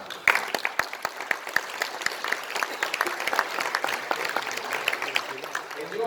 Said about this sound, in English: So give yourself a hand of applause because you are in DXN.